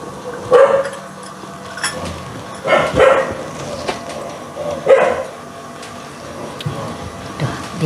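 A dog barking outside a door, four or five separate loud barks spaced a second or two apart, slightly muffled, over quiet room noise.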